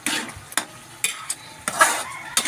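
Eggs boil in Sprite in a pan with a soft bubbling sizzle, broken by a few sharp stirring or scraping bursts, and no one talks.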